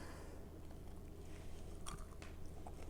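Close, crisp bites and chewing of crunchy homemade sugar-free granola, a few sharp crunches standing out over a muffled background of chewing.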